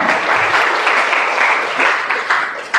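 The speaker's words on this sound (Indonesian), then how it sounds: "tepuk tangan ya untuk Muhammad Ihsan" Classroom audience applauding for a participant named Muhammad Ihsan during a lesson on introducing oneself: loud, sustained clapping from many hands filling the whole stretch, with no talk on top.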